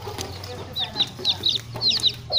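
A group of farmyard hens gathered in the sun cluck repeatedly in short, bright calls close by, with a steady rumble and faint voices underneath.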